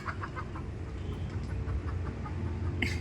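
Chickens cluck in short bursts over a steady low rumble, with a brief sharper call near the end; no voices.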